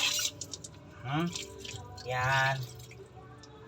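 Sliced tulingan fish are rinsed under water with soft drips, splashes and squishy handling close by, while someone talks over it in short bursts.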